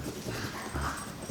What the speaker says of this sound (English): I don't know if you guys can hear my dogs in the background.